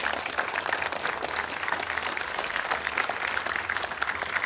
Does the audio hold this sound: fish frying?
no